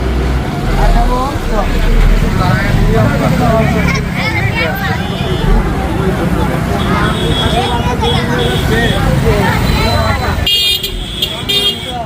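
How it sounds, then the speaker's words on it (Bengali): A holiday traffic jam at a busy Bangladeshi village bazaar during Eid, with idling engines, repeated car and bus horn toots and a babble of crowd voices close around, people talking throughout. "ঈদের মধ্যে সেই জ্যাম দেখেন"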